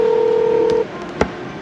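A telephone number being dialed on a keypad: one steady, loud tone lasting under a second, then silence and a short click, with no talking.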